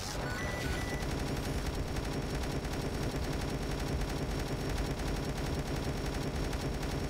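Turret gunfire in the zombie defense game Dead Ahead: Zombie Warfare, a constant mechanical stream of rapid shots that holds a steady loudness from start to finish with no pauses.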